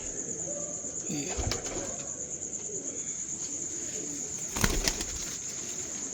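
Grey Ferozpuri-type pigeons in a loft give soft coos and two sharp bursts of flapping wings, close by, over a constant background hum and some talk.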